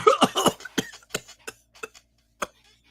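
A person coughs in a rapid burst at first, then the coughs thin out into a few spaced, softer hacks before stopping.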